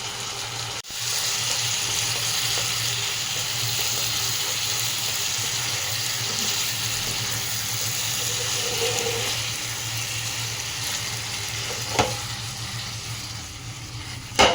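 Chicken keema masala, with chilli powder, garam masala, cumin powder and chicken masala, dry-frying in a pot once its water has cooked off. A steady, dense hiss carries on without a break, with a brief knock near the end and no talking.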